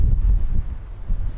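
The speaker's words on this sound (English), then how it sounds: "Wind is really blowing" Strong wind buffets the microphone at Lisbon Airport, a loud low rumbling roar that swells and dips in gusts, close and with no voices over it.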